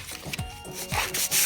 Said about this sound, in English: All you have to do is take the sandpaper and sand it down.